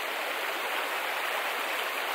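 A trailside stream rushes in a steady, even wash of flowing water, close and constant with no voices.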